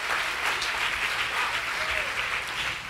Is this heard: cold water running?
no